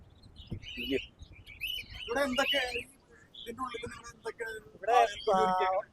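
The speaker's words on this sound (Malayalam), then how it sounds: "കിളികളെ ഇവിടെ ഒരു പ്രത്യേക ഹാളാക്കിയിട്ട് തുറന്നു വിട്ടിരിക്കുകയാണ്" Birds, including macaws, call and chirp freely inside an indoor hall at a flower fest, with bursts of sharp tweets and louder squawks spaced through the clip, close and clear.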